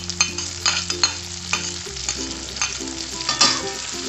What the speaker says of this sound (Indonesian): Kita tumis lagi ya.